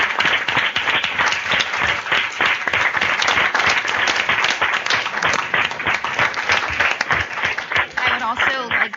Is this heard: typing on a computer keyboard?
no